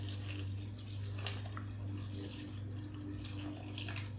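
Water trickles slowly and steadily into a bowl of no-knead bread dough mixture, a soft continuous pour over a low background hum.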